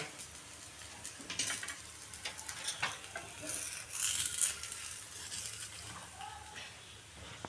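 Eggplant slices sizzle and crackle in hot oil as they are turned over in a pan, with soft scraping and stirring sounds and a steady low fry beneath, close and fairly quiet.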